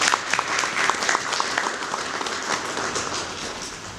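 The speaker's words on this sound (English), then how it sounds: "If we can just clap for him." A room of business club members at a networking breakfast claps steadily for a new board member, dense overlapping hand claps sustained at an even level throughout.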